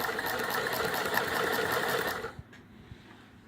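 A Singer 128 sewing machine stitches fabric with a fast, steady mechanical whir close by, then stops abruptly after about two seconds, leaving faint clicks.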